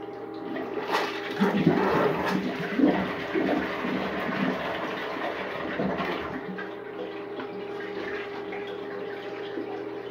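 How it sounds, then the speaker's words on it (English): A household toilet flushing on a second attempt with a grocery bag in the bowl, a steady rush of water running for several seconds close to the microphone, with a few brief louder surges and faint background voices. "Okay, flush number two."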